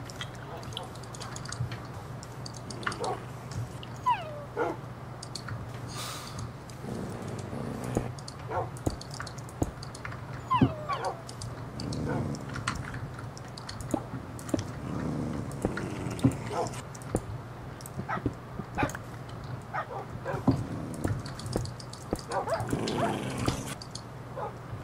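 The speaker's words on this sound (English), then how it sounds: "Stupid dogs." Minecraft dogs whimper and yip in short scattered bursts over a steady game hum, mixed with quick clicking like keyboard typing, throughout a desert fortress stretch of a hardcore survival game.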